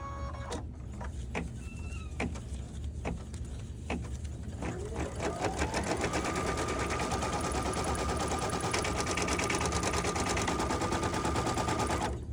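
A sewing machine stitching placement lines for a vinyl bookmark onto stabilizer, first in a few separate bursts, then running fast and continuously in a rapid, steady mechanical rattle with a whine, close and alone.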